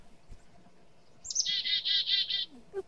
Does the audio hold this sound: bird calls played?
yes